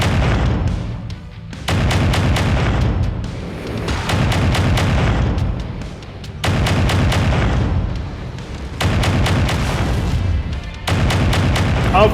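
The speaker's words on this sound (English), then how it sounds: "I'm gonna shoot at this guy." Mech weapons in MechWarrior 5 Mercenaries fire in four long, loud volleys of rapid heavy booming shots, each burst lasting a couple of seconds, separated by brief lulls of rumbling.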